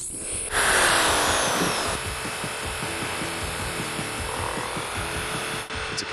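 An electric machine grinding rice grains for rice balls, a loud steady whirring drone with a gritty rattling texture that runs continuously, cutting briefly near the end, with no talk.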